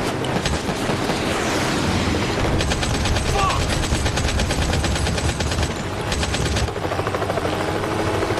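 Sustained rapid gunfire in Modern Combat 5: Blackout, loud and continuous over a dense battle din with a helicopter rotor chopping through it, bursts of automatic fire pulsing across the whole stretch.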